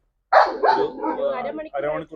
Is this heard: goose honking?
no